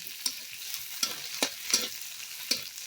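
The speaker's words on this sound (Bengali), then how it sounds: "এখন পেঁয়াজ কুচিগুলো দিয়ে দিব, তেজপাতা দিয়ে দিব, সব দিয়ে দিব" Chopped onions and bay leaves fry in a pan over a clay stove, making a soft steady sizzle broken by a few sharp scraping stirs at irregular intervals.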